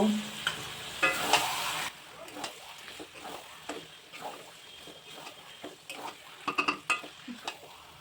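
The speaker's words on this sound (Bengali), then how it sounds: "এবার আমি ম্যারিনেট করা মাটনটা দিয়ে দেব। মাটনটা ভালো করে কষিয়ে নেব।" Marinated mutton hitting hot spiced oil for Bengali mutton kosha, with a burst of loud sizzling at the start that settles into steady frying, broken by repeated stirring scrapes and clinks of a utensil against the pan.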